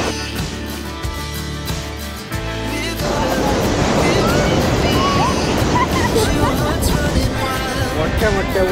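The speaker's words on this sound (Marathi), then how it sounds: "मोठ्या मोठ्या उंच उंच लाट आहेत" Big, tall ocean waves break on a beach where the water rises to waist height, a loud, continuous roaring surge that swells after a quieter start, with voices faintly in the background.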